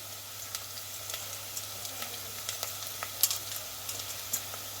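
Bay leaves and pieces of cinnamon fry in oil with onions for a chicken pulao, giving a soft, steady sizzle. Faint scattered crackles sit over a low hum, with no talking.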